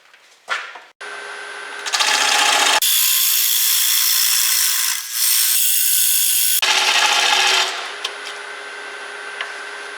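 A wooden bowl spins on a lathe while a gouge cuts across it, producing loud sustained scraping and hissing bursts that start and stop, with a short gap midway and quieter motor hum between cuts.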